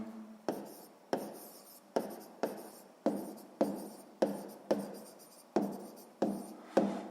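Pen or chalk writing down a sixth-grade maths answer, a steady run of about a dozen short scratchy strokes in an even rhythm, close and fairly quiet with no talk over them.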